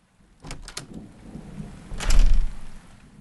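A thunderstorm rolls over a forest treehouse, with rain and gusting wind in the canopy and a few sharp crackles early on, then a loud, close rumble of thunder that swells and fades away.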